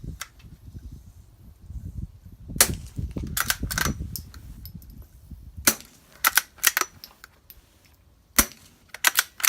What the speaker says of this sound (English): We're going to be shooting some 22 subs.